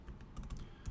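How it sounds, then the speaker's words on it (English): Quick taps on a computer keyboard while entering an Excel formula, a short burst of soft, close keystrokes in an uneven rhythm with no voice. "So I'm going to type this in"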